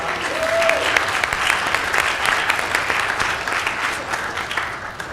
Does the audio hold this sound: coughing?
no